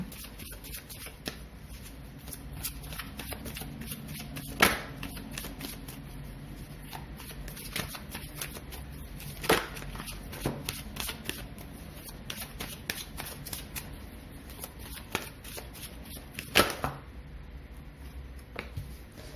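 Tarot cards being shuffled by hand, a steady stream of soft papery riffles and flicks with a few sharper card snaps, close and alone without talk.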